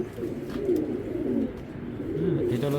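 An imported racing pigeon coos in low, rolling, throaty phrases close up, with a second bird's coo overlapping near the end.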